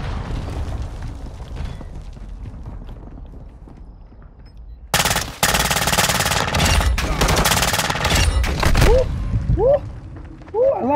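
Suppressed gunfire in a hardcore free-for-all match of Call of Duty: Modern Warfare II, a dense burst of muffled shots filling the second half after a quieter stretch, with someone talking over it.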